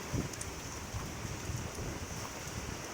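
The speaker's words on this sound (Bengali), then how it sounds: "আকাশ এখনও মানে ঝড় হয়েই যাচ্ছে ঝড় বৃষ্টি হয়েই যাচ্ছে" Cyclone Remal storm with steady rain and gusting wind, a continuous broadband roar held at an even level throughout, with no voices.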